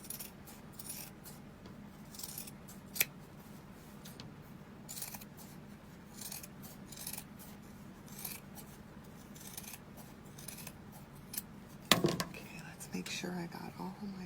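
Scissors trimming thick fluffy fabric close to a sewing line on a homemade glasses case, making soft close-up snips and rustles with a couple of sharper clicks, under quiet talk.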